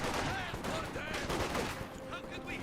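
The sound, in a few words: machine gun fire in Company of Heroes 2 video game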